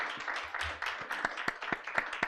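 An audience applauds after a presentation on illegal, unreported and unregulated fishing. Sharp individual claps come close together at first, then thin out into scattered, separate claps by the end.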